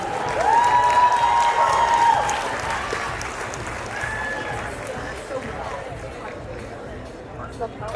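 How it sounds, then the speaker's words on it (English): Guests at a wedding reception break into applause and cheering, loudest at first and then tapering into scattered clapping and crowd chatter, with a voice over the noise. "One more round of applause to the bride side."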